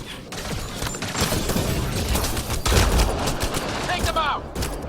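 Sustained gunfire in the Mass Effect Andromeda sci-fi shooter, dense rapid bursts and booms rolling continuously at close range, with shouted voices and combat chatter mixed over the shooting.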